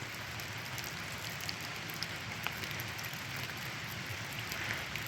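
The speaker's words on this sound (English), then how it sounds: "A little bit of rain." Light rain falls steadily outdoors, a soft even patter with a few scattered louder drops, no talking.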